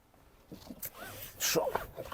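A seat belt in a Nissan Leaf electric car is pulled out and buckled, a short quiet sliding rasp followed by a faint click, close by with no talk.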